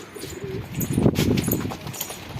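A homing pigeon lands at its loft with a brief flurry of wing flaps, followed by low cooing, close and moderately loud against a steady background hum.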